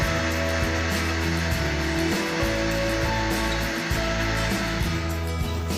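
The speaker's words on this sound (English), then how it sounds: "Be very much careful while grinding." A kitchen grinder grinds rice into flour, a loud continuous motor whir with a churning, rattling texture and brief dips in pitch as the load shifts, close by and alone.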